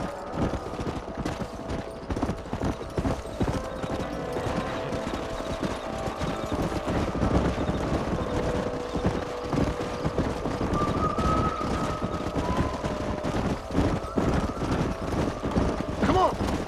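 Horse hooves clip-clop in a steady trotting rhythm in the video game Red Dead Redemption, continuous and fairly close, with low ambient game sound beneath and occasional voices.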